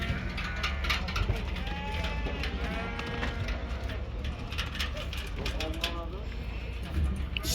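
Sheep bleating at a livestock market in Kyzylorda among rams, ewes with lambs and goats, several wavering bleats close and farther off under steady talk and crowd noise.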